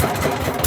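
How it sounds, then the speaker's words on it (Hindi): A motor-driven engine set up behind a manual water bore hole runs steadily with a loud, continuous low rumble and no break, and no voices over it. "वो पीछे इंजन लगा हुआ है, उसके साथ ये करते हैं"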